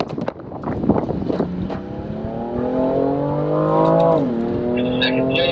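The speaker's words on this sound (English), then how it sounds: "let's find full throttle. Make sure it's second gear." A BMW M car pulls hard at full throttle in second gear on a racetrack, the engine note climbing steadily and loudly before a quick drop at the shift, then continuing to rise, heard from inside the car.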